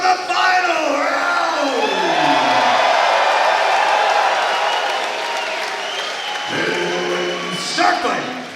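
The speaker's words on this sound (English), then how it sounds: "make some noise for the final round!" Home crowd at a live exhibition fight event in Pittsburgh roars and cheers loudly and steadily before the final round, with bellows and whoops rising and falling and shouting voices over the din.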